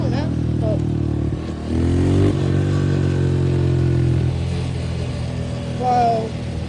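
A dirt bike engine rumbles steadily at close range while being ridden, rising in revs briefly around the middle, with a voice talking over the engine.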